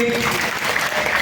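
A large audience at a Hindu community gathering in Chagallu claps together in a short, dense burst of applause, heard under a speaking voice.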